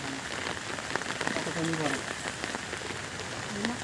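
Steady rain patters on surfaces outdoors around waterlogged village fields and a pond, a dense even hiss with faint voices in the background.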